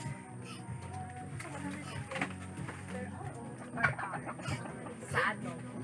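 Chickens clucking and murmuring nearby amid outdoor ambience, with occasional louder calls and people talking in the background.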